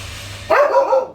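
An aged dog over ten years old lets out a single short bark, close and fairly loud, after a moment of low background hum.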